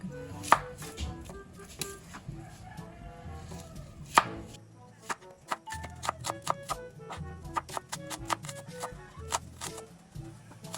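Onion and garlic being chopped with a knife on a board, a run of sharp, close, uneven thwacks that speeds into quick rhythmic chops.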